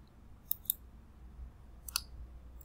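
A computer mouse gives a few crisp clicks while someone works in Autodesk CFD 2019 software: two quick clicks close together, then a pause and a couple more, sharp and close in a quiet room.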